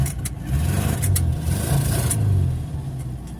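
A cold 1978 VW bus engine rumbles with a low, throaty idle that swells into a couple of moderate revs, loud and close, with a few clicks over the top and no talk.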